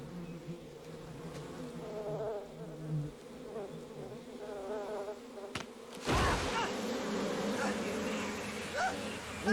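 Bees from a Lost episode buzzing steadily throughout, a continuous insect drone that swells louder in the latter half, with faint background sounds underneath.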